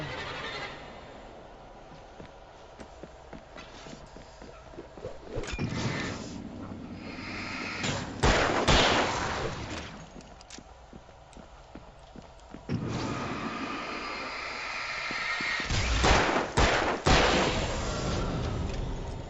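Gunfire in the Alan Wake video game, several sharp loud shots in clusters over a rumbling, eerie game soundscape, with no talk during the shooting.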